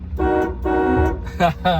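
A 1978 Cadillac Eldorado Biarritz coupe sounds its horn in several close, loud blasts: two long steady tones followed by two shorter, sharper toots.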